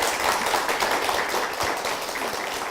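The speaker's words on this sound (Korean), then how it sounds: "박수 부탁드립니다." A church audience claps steadily in dense applause that fills the whole stretch, loud and even with no lulls.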